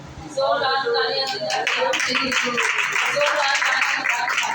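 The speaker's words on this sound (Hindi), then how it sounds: "जोरदार तालियां" A church congregation at a Sunday service bursts into loud applause that swells quickly after a brief moment of voices. The clapping stays dense and sustained, with some voices mixed in.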